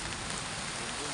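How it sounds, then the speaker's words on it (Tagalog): Steady rain pours over an outdoor area during a stormy exploration trip, a dense, even hiss with no pauses that fills the whole stretch. "Nabutan kami ng ulan tol dito sa area na to"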